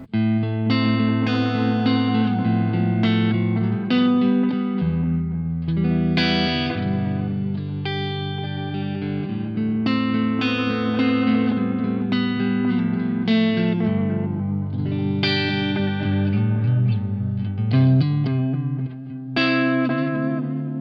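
An electric guitar plays chords and melodic lines through a Keeley Bubbletron modulation pedal, shimmering and wavering, with a wash of reverb, continuous and fairly loud.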